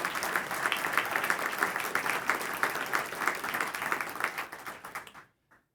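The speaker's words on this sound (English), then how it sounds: "a big Waterbury round of applause to Montagno and Joe" An audience at a UConn Waterbury ribbon-cutting ceremony gives a hearty round of applause, dense, steady clapping that holds for about five seconds before cutting off abruptly.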